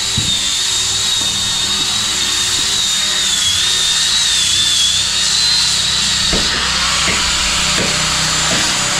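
A small chainsaw buzzes continuously and loudly at close range, its engine whine steady while it cuts through wood, with faint knocks near the end.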